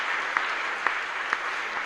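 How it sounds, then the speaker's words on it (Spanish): Applause from a church congregation during a live Mass at a chapel, a steady wash of clapping for about two seconds with a few sharper claps standing out, moderately loud and continuous. "Fuerte aplauso entonces para el Señor."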